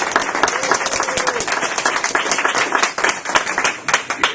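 A crowd applauds Michigan congressman Kerry Bentivolio at a gathering, loud, close clapping with sharp individual hand claps standing out and a faint voice or two beneath it.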